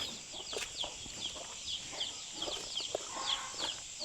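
Chickens clucking in a fenced garden, a series of short repeated clucks and calls over steady outdoor background noise, with no talking.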